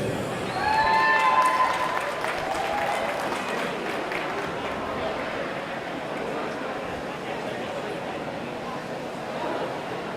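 Audience applause at the 2018 Greater Valley Conference district swim meet after a girls' swim race. Clapping and crowd noise spread evenly across the whole stretch, swelling near the start with a few shrill whistles, then settling into steady, moderately loud applause.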